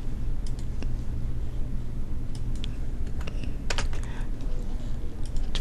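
Computer keyboard keys tapped in quick, irregular bursts while entering text and shortcuts in an Excel spreadsheet, close and fairly loud over steady low room noise.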